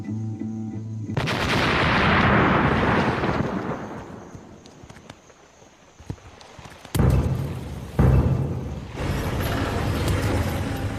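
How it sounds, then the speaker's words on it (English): A controlled explosion set to destroy a landmine erupts in a loud, deep boom that rolls and fades over several seconds, followed by a few sharper cracks and rumbling bursts; no voices. "Controlled explosion ready."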